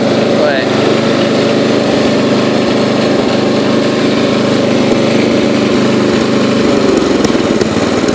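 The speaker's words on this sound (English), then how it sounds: "you can still hear it's backfiring" A Yard King riding mower engine runs loud and close in a steady, rough drone, with faint irregular pops through the running.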